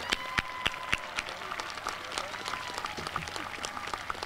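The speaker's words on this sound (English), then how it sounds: "Please give them a round of applause." A high school graduation audience gives a steady round of applause, a broad wash of many hands clapping with some sharp, close claps near the start, continuing evenly throughout.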